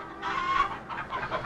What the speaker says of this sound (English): Live chickens on sidewalk.